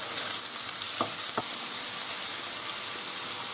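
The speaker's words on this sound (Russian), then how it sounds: "я сюда кидаю куриные бедра. Здесь у меня два бедра без шкурки и без костей, порезанные на кусочки. Размешиваю и обжариваю." Boneless, skinless chicken thigh pieces frying with onion in a pan, a close, steady sizzle with two brief scrapes of stirring early on.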